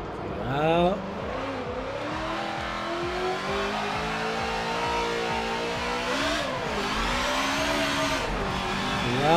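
A race car's engine revs and accelerates hard through its gears in Top Gear Motorsport, a loud continuous whine rising and falling with shifts, and someone talks excitedly over it.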